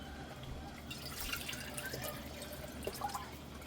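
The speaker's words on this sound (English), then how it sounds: "Now I've got the room temperature water that just come from where I left it out to get rid of the chlorine and stuff." Room temperature water being poured into ferment jars, a soft trickling and dripping with a few small splashes over a low background hum, quiet and without voices.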